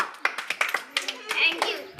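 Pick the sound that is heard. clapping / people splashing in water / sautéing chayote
clapping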